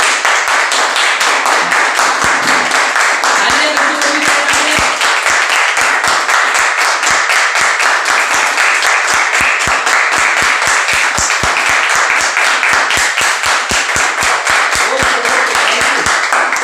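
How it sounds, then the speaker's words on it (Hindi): Loud, sustained applause from an audience welcoming someone speaker to the stage at a goal-setting talk, dense rhythmic clapping running steadily throughout with a brief voice near the start. "So please miss Aishwarya madam के लिए जोरदार तालियां।"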